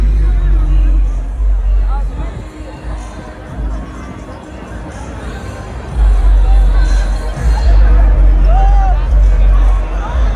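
A dense street crowd at London's Notting Hill Carnival fills the air with continuous babble and chatter, loud and close, with a low rumble of traffic and occasional bangs beneath the voices.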